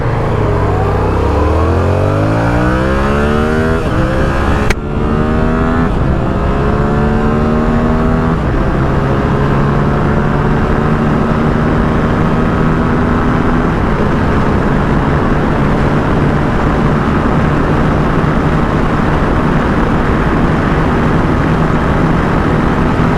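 A Yamaha R7 motorcycle accelerates hard toward high speed, engine pitch climbing steadily through gears with a brief break at a shift, then a sustained loud, rising whine over continuous heavy wind rush.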